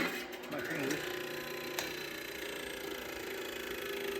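A grinder works down the edges of Honda K24 engine mounts, a sustained high whine with a brief pitch sweep early on and a sharp scraping spike partway through, steady and close.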